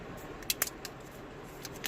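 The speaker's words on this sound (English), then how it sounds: "And unwrap it." A Fitbit Ionic smartwatch is unwrapped from its packaging, giving a few quiet, sharp crinkles and plastic ticks scattered over about two seconds.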